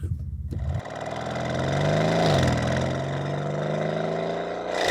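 Porsche Cayenne GTS V8 engine in a heavy SUV: after a brief quiet moment, loud, close revving builds into a sustained accelerating roar with a rising pitch, continuing strongly to the end with no talk.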